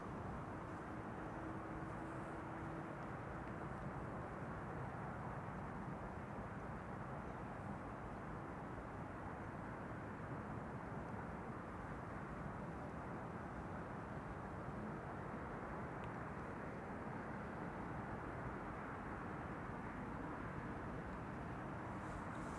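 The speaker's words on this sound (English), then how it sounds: "Hey, the A350-1000 has arrived on the scene." A Cathay Pacific Airbus A350-1000 on flight 270 from Hong Kong arrives at Amsterdam Schiphol, a steady broadband jet roar that holds at an even level throughout, with no talk over it.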